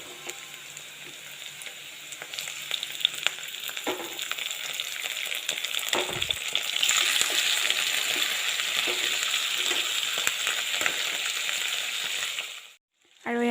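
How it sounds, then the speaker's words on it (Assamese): Fish fries with onions in a pan, a steady close sizzle with scraping and clinking as the pieces are turned and stirred. It swells midway and drops away sharply just before the end. "আৰু এয়া মই মাছখিনি লৰাই দিলোঁ"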